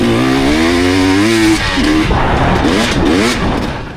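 A dirt bike fitted with an FMF Gnarly header pipe accelerates on Michigan single track, its engine note climbing steadily in pitch, then shifting and pulling again loud and close, with no talking.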